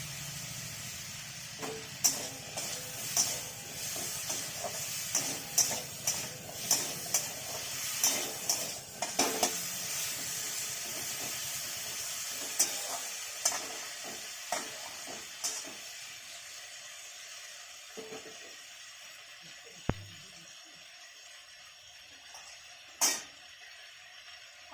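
Pumpkin stems are stirred and fried in a wok with potatoes for a lentil dish. A low, constant hiss of frying sits under a series of sharp scrapes and clacks from the stirring utensil against the metal, coming quickly early on and more sparsely later.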